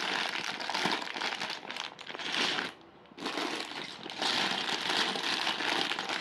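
Clear plastic bags of Lego Classic 10698 pieces crinkle and rustle loudly and close up in a nearly continuous stretch, with one brief quieter gap near the middle.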